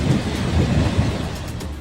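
Heavy rain during flooding in the Bundelkhand region of Uttar Pradesh makes a loud, continuous roar with deep rumbling swells like thunder, alone without any voices.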